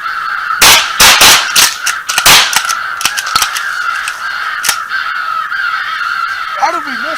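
A shotgun fires at a crow during a crow hunt with motion decoys in heavy wind. Several sharp, loud blasts ring out early while crows caw steadily nearby and hunters talk.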